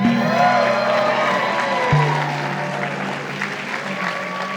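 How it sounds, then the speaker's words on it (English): An audience at a campaign debate applauds loudly and steadily, a dense wash of clapping that eases slightly toward the end, with no speech over it. "If you want to applaud, do it."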